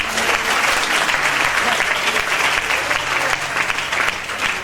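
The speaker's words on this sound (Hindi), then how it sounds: "जोरदार ताली बजा प्रभु के लिए" A church congregation at a healing and deliverance meeting bursts into vigorous applause, a loud, dense, continuous wash of clapping from many hands that holds steady without letup.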